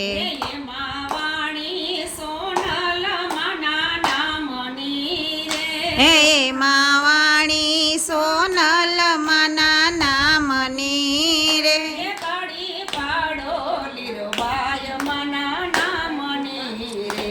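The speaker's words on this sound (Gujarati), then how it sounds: "હે તાળી પાડો" Steady rhythmic hand clapping keeps time under a loud devotional bhajan to Lirbai Ma. The sung, melodic vocal dominates while the sharp claps repeat at an even beat throughout.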